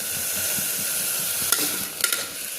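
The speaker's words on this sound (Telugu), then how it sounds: "క్యారెట్, ఆలు, పుదీనా, పచ్చిమిరపకాయలు, కొత్తిమీర, కరివేపాకు అన్నీ వేసి మిక్సింగ్ చేసి కలుపుతున్న" Vegetables for moong dal khichdi (carrot, potato, mint, green chillies, coriander, curry leaves) stirred and mixed in a pan, a steady soft sizzling scrape with a few sharper utensil clinks near the end.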